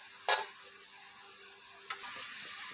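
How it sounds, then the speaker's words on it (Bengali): Spice paste fries in oil over a low flame, giving an even background sizzle. A spatula stirs through it, with one bright clink early on and a softer scrape later. No voices. "খুন্তি করে নাড়াবো এইভাবে করতেই থাকবেন হালকা ফ্লেম দিয়ে যতক্ষণ না মশলাটা কষে আসছে"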